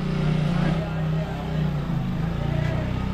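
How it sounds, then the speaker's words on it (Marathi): A vehicle drives in during a village Dhulivandan celebration, its steady low engine rumble filling the scene up close, with voices faintly around it. "येऊ दे गाडी येऊ दे आतमध्ये."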